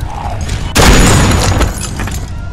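A single loud gunshot in The Walking Dead 400 Days video game bursts out abruptly, up close, then trails off into a broad decaying rumble with no voices over it.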